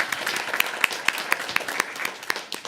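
Applause at a school board meeting, a scattered round of individual claps spread through the room, moderate in level and steady for the whole stretch, with no talk over it.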